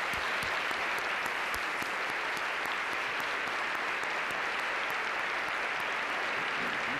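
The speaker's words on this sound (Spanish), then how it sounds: "si se pueden poner de pie, por favor," A crowd at a human rights award ceremony applauds a laureate's family, sustained dense clapping holding at an even level throughout.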